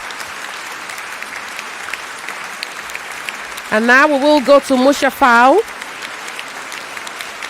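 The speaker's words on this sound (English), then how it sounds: "Round of applause." Applause from the audience at a school playoff debate, a steady wash of clapping throughout with a voice speaking over it in the middle.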